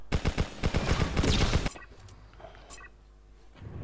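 Rapid bursts from a four-barrel gun in the mobile shooter Pixel Gun, a dense volley of loud shots for under two seconds, then quieter game sounds.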